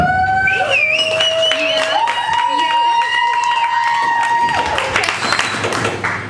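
A small audience at a Monday night live show in Cafe Gratitude claps and cheers loudly and continuously, with whoops and high shouts rising over the applause throughout.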